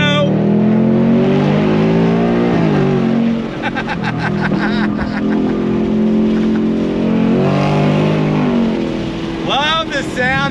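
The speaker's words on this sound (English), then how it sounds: "Love the sound of that V8." A 2025 Mustang GT V8 in Intense Lime Yellow accelerates hard up close, its loud engine note rising through the gears with a brief dip at a shift, under an overpass, while people talk over it.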